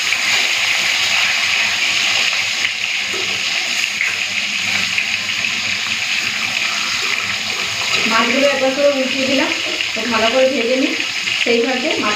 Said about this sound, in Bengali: সর্ষের তেলটা গরম হয়ে গেছে মাছগুলো দিয়ে দিই তেলের মধ্যে